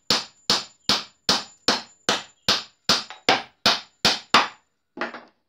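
Hammer strikes nail a eucalyptus bottom into a pine beehive box, eleven loud, evenly paced blows close up, then a lighter final knock.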